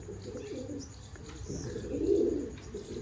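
Pigeons coo softly in low, throaty murmurs, one call swelling a little louder near the end, quiet and close with no voices.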